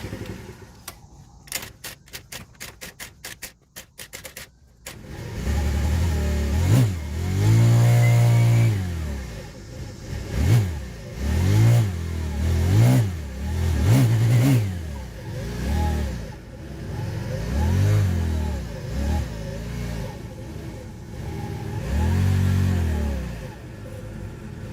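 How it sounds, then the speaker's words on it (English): A TaoTao 50cc Chinese scooter engine being fixed after it was bought not working revs loud and close with the throttle held, its note swelling and dipping unevenly over about twenty seconds after a few quiet seconds of clicking. "So I'm trying to hold the throttle in just one place"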